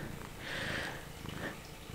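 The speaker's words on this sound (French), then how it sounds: "Elle ronronne." A house cat purrs softly at close range, a low rumbling murmur that swells and fades over two seconds in a quiet indoor room, with no talking.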